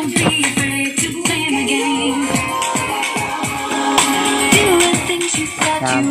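Music blares through an LD RJ10 portable PA speaker with no bass, thin, trebly tone and little low end, steady and fairly loud, with sharp rhythmic hits throughout.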